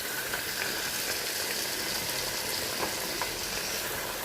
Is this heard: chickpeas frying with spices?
yes